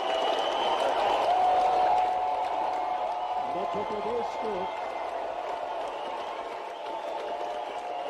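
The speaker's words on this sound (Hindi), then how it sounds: "जोरदार तालियां।" An audience at a sports campaign launch event in Bhopal claps in a broad, steady wave of applause under an announcer's voice, fading gradually as it continues.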